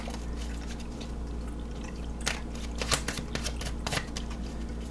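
Tarot cards shuffled by hand for a yes-or-no card pick, a soft continuous riffle with several brief louder flicks near the middle, close and fairly quiet against a low steady hum.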